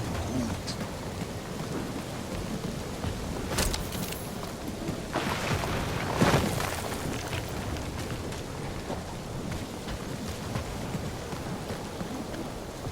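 Steady heavy rain pours throughout a stormy scene in Marvel's Guardians of the Galaxy video game, with rumbling thunder swelling around the middle and a constant dense hiss of falling water.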